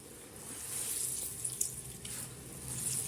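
Whey trickles and splashes as hand-squeezed çökelek curd cheese, made from milk, is wrung out. A steady, soft watery spatter runs close by with no talk.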